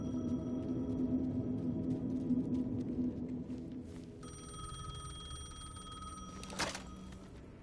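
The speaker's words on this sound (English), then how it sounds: "The payphone was ringing." A payphone in Alan Wake 2 rings with repeated electronic trills over a dense, droning game ambience, each burst clear and steady against a low rumbling background.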